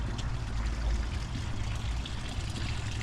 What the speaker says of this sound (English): Oh, and listen to this fountain here.